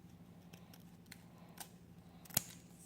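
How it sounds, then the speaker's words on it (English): Scissors trimming pink paper in a glitter craft studio, a few faint snips followed by one sharper, louder cut near the end over a quiet background. "you want to like trim"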